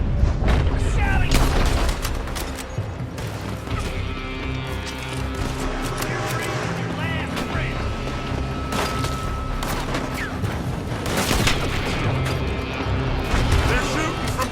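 Gunfire and explosions in Red Dead Redemption 2, heavy booms and crashes with scattered shots in a busy firefight, loud and continuous, while voices shout and talk over the action.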